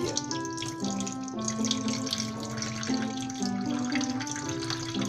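Water pours steadily into a kitchen sink as rice cooking water is drained off, a continuous close splashing rush under a low, steady tonal hum, with no talking.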